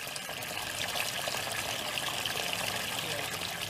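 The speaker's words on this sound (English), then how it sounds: "A small plastic tank is partially filled with water." Water trickles and pours into a small plastic tank for a hydroponic setup, a soft, steady, fairly faint liquid stream heard alone.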